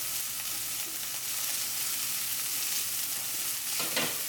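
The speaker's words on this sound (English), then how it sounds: "Hear that sizzle." Steady, bright sizzling of vegetables frying in hot oil in a pan over medium-high heat, continuous with occasional crackles, close up and without talk.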